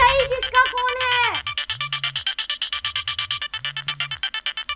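A mobile phone ringtone rings loudly, a melodic electronic tune repeating in a steady rhythmic pattern of short beeping notes, following a brief burst of dramatic music at the start.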